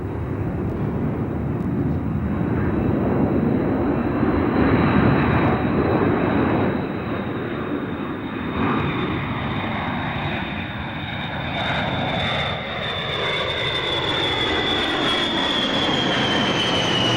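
Strategic bomber engines drone loudly and steadily throughout, a broad continuous roar with a high whine that slowly drifts lower, like a large aircraft passing close by.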